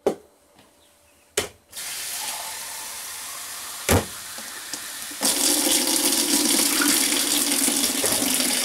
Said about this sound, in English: I like to put water in the crock pot so it doesn't burn.